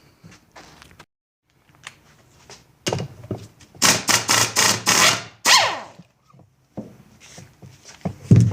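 Workshop clunks and knocks while removing the flywheel from a seized Evinrude 8 HP outboard motor, with scattered taps, then a run of loud sharp metallic bangs and rattles, followed by quieter handling noises.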